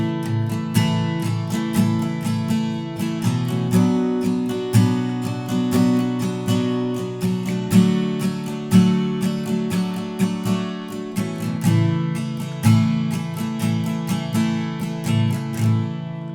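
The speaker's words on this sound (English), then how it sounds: "here's an even simpler way of playing the chord progression." Acoustic guitar with a capo strums the chord progression of a song in a steady rhythm, bright and close, with no voices.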